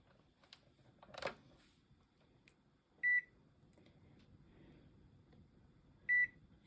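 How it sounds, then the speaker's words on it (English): A kitchen oven being set to preheat, two short electronic beeps a few seconds apart over quiet room noise, with faint handling sounds before the first beep. "heat the oven."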